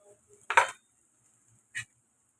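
Two short metallic scrapes of a spoon against a pan, one louder then a fainter one, while boiled potatoes with turmeric and salt are stirred and sautéed; otherwise near silence.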